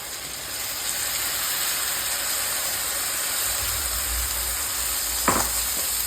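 A steady hiss of rice frying with spices in a pan for pulao, fairly loud and constant, with a single brief clatter near the end.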